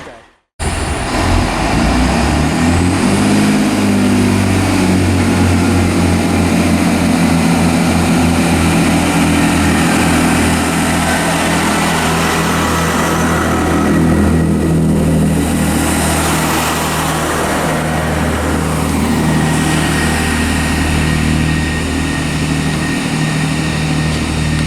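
A Class 165 diesel multiple unit, 165 130, pulls away with a loud, sustained engine drone that steps up in pitch as it accelerates, heavy low rumble throughout for over twenty seconds.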